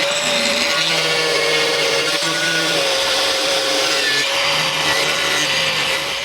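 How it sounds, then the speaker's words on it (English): An angle grinder biting into a wooden skateboard deck during a lowrider board build, a loud, sustained whining buzz with steady tonal hum and gritty abrasive hiss, close and unbroken throughout, with no talking. "I think we're going to switch it up to an angle grinder so that we can really dig into this beast."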